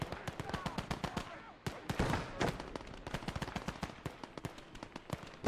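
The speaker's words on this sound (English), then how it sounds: "The mortar's still going off in the middle." Dense battlefield gunfire in the World War II game Gates of Hell Ostfront, with rapid machine-gun bursts and sharp shots crowding together, mortar rounds thudding among them, loud and continuous with a brief lull midway.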